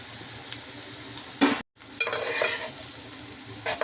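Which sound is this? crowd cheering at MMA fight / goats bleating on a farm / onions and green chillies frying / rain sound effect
onions and green chillies frying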